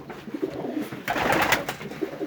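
Pigeons kept for laying coo softly near and far, low murmuring calls over light rustling, with a brief louder flutter of activity midway.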